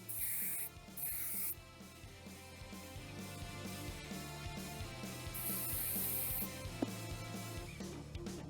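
Aqua Net hairspray is sprayed heavily and close onto hair in a series of loud hissing bursts, several separated by short pauses, over a steady background hum.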